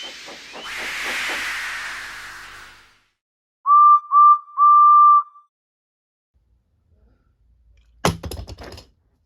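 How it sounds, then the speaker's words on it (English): A toy steam engine gives a long breathy hiss of steam, then three short clear whistle toots after a pause. A sharp mechanical clatter closes it out. No voices. "So they lit his fire, made lots of steam, and Edward puffed away."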